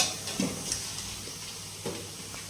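Sautéed onions with curry leaves and green and dried red chillies sizzle steadily in a pan as gongura leaves go in, with a couple of soft stirring clinks over the continuous hiss, no voices.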